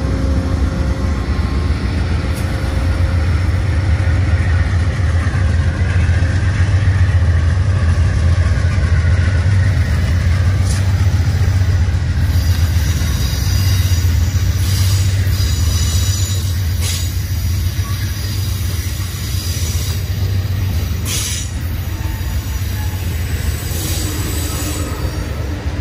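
A train leaves the Roseville rail yard. Its wheels give long, shrill squeals over a continuous low rumble of rolling cars, and this goes on steadily throughout.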